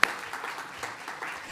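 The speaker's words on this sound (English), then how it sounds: "So quick round of applause to Tatiana." A short round of applause from an audience at a talk on volunteer programmes, steady and moderate in level, with faint voices underneath.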